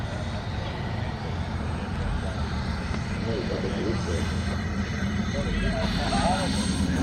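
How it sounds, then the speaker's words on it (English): A model jet aircraft lands during a noontime demo at the Joe Nall fly-in in 2025, its engine producing a steady, loud turbine roar throughout, with a commentator talking over it. "Gorgeous jet. Gorgeous landing."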